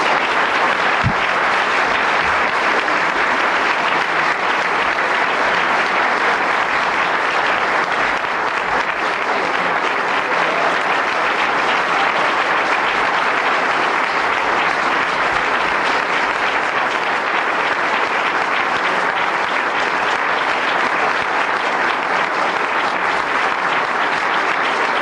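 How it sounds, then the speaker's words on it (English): An audience at the National Press Club breaks into sustained, dense applause, loud and steady throughout without fading, many hands clapping together with no voices standing out. "It's been a long time since we'd had an applause like that here at the club."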